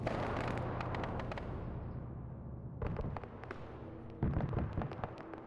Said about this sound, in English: Hear more auto cannon.